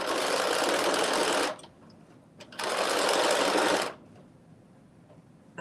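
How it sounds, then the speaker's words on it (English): A sewing machine runs in two steady whirring bursts while stretchy fabric is fed through and stretched slightly, with a short quiet pause between them and a few faint clicks, close and alone without speech. "Kind of stretch it a little bit as you're pushing it through the machine."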